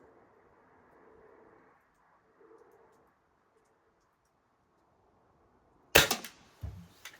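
A single sharp crack from a Shanghai China Model 62 pellet rifle fired at a 20-yard target comes after a long near-silence, close and abrupt, with a brief thump following.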